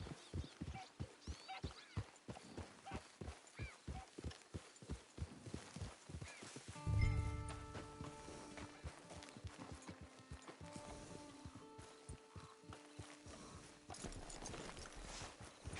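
Rhythmic horse hooves in the video game Red Dead Online clip-clop steadily at a walking pace, with a brief whinny and soft music rising midway.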